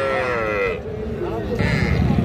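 Cattle at Aftabganj livestock market, a weekly haat: a close, drawn-out moo, followed by mixed market chatter and a fainter second call, with people talking nearby.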